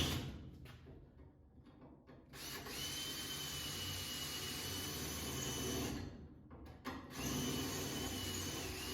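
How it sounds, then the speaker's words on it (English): A power drill bores out a spot weld on the steel body of a 1961 Volkswagen bus, whining steadily in two long runs with a brief pause between, close and alone. "Just one spot weld here I gotta drill out."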